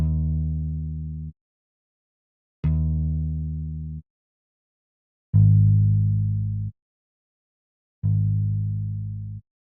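A synth bass line from a song recreation plays four sustained low notes, each over a second long and separated by even gaps of silence. It is loud and clean, with no voices.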